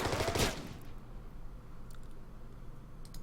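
Gunfire from an attacking unit strikes an AA gun in the war strategy game Order of Battle: Pacific, set during the Leyte campaign: one loud, dense burst at the start, then a quieter crackling tail with a few faint sharp pops.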